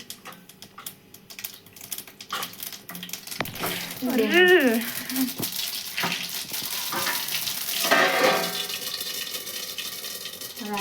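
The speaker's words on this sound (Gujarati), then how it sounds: "હવે આપણે રાઈ વધારે એડ કરી દઈએ." Mustard seeds crackle and pop in hot oil while tempering handvo batter, a dense run of sharp spluttering ticks with a brief voice partway through.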